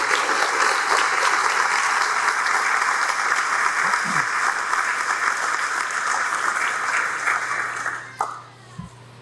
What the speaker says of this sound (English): So the round of applause coming for you right now is probably the most deserved.